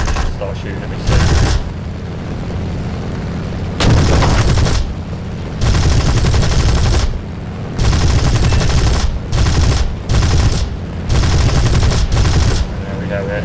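Bursts of machine gun fire from a Spitfire Mk II in the War Thunder game over Sicily, loud rattling volleys repeating in an irregular rhythm, separated by short gaps filled with engine drone.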